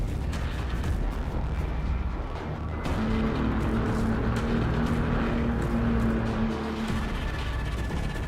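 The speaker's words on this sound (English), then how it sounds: "I'm gonna get them up there and launch those grenades" Grenades are launched and explode in a strategy video game, making a dense, loud, continuous rumble of blasts and bursts with a steady droning tone partway through and no voices.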